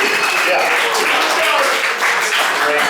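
Wedding guests break into dense, sustained applause for the groom's suit during a best man toast, a full room of clapping at steady volume throughout.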